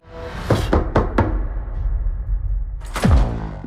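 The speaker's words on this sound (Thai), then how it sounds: "แล้วจู่ๆ ก็มีคนมาเคาะประตูครับ" Knocking on a door in the Deadpool & Wolverine trailer: four quick, sharp knocks in a short run, then a heavier thump a moment later over a low background hum.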